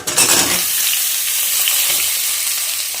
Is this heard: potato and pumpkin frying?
yes